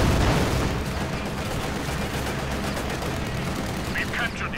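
Incendiary armor-piercing rounds fire on a T-34 tank in Company of Heroes 2, dense rapid gunfire and battle noise rattling continuously with heavier booms mixed in, loud and busy throughout.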